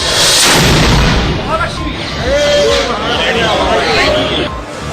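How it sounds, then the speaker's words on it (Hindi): A ceremonial cannon fires at the Mahalakshmi temple in Kolhapur, a loud blast-like burst set against a noisy crowd murmur that continues throughout. "फिर एक पुलिस वाले ने इसमें विधिवत आग लगाई और तोप का गोला फट पड़ा।"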